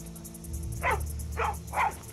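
A dog in the Skyrim video game gives three evenly spaced barks, close and clear, over a low steady game ambience hum.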